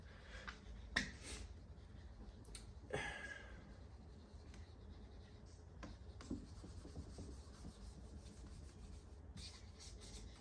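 Eraser or cloth rubbing across a whiteboard during a business lecture, heard as a few short scraping swipes near the start, then quieter faint rubbing with no talk.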